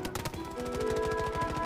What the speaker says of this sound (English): I'm just blindly shooting